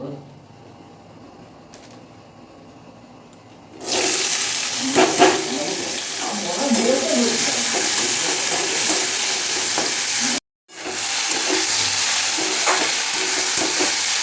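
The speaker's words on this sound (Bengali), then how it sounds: "আগে উচ্ছে আলুটা ভেজে নেব তারপরে বরবটি আলুটা ভাজবো" Bitter gourd and potato fry in a pan, a loud steady sizzle that starts abruptly after a quiet opening, with stirring scrapes and a brief cut-out midway.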